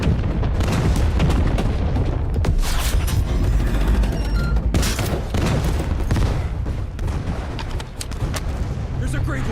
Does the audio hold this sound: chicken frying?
no